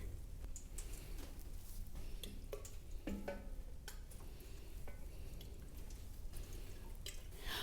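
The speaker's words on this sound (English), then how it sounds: "I have just enough water left in this can to give these a little drink" Water poured from a watering can onto potted cacti and succulents in a windy garden, a soft steady trickle and patter with scattered small drips throughout, fairly faint and continuous, no talking.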